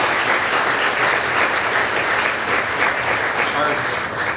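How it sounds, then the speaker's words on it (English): Audience applause for corporate sponsors at an annual awards celebration dinner, a dense, continuous round of clapping from a large crowd, fairly loud and even from start to finish. "Big round of applause for our corporate sponsors."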